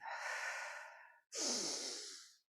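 Two long, deep diaphragm breaths during a seated older-adult exercise class, a steady airy inhale followed by a fuller exhale, close and soft, with no talking.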